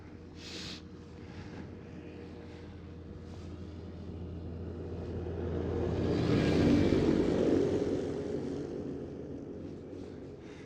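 A KLM Airbus A321neo jet at Schiphol, its engine noise faint and distant, building gradually to a soft peak before easing off again over a steady low background hum.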